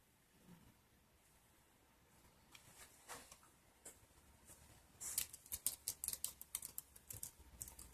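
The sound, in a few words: typing on a 2009 HP DV7 laptop keyboard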